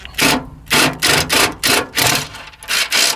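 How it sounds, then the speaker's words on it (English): Repeated bursts of a harsh grinding, rasping sound, about six pulses with short pauses between them, close and loud, as a 3/8 drill bit bores through aluminum door panels. "we're just going to step them up with a 3/8 drill bit so that the nutsert fits through the hole"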